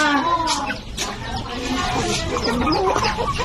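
Native chickens cluck and call together at feeding time in a backyard, a busy, fairly close flock sound that continues steadily throughout.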